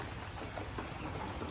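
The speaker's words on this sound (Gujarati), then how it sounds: "તમે જો વરસાદ ચાલુ થઈ ગયો" Rain pours onto the flat concrete roof of a house freshly coated with waterproofing chemical, a dense, even hiss of drops with scattered sharper patters, steady and moderately quiet with no voices.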